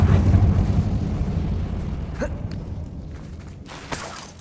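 A Confringo fire spell in Hogwarts Legacy lands with a deep, rumbling blast that decays over a few seconds, followed by a couple of smaller pops and whooshes.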